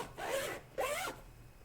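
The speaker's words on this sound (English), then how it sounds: "that's a number 5 nylon zipper" Two quick rasping pulls of a number 5 nylon zipper on a cue case, close and crisp, separated by a short pause, with no voices.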